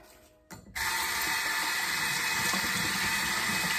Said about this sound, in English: I'm gonna go ahead and wash my hands again